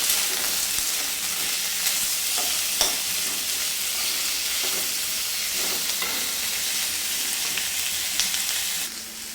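Green chillies and onion frying together in a hot pan for a bottle gourd and jowar flour thalipeeth recipe, a steady bright sizzle with occasional scraping stirs, close and continuous, dropping off sharply near the end.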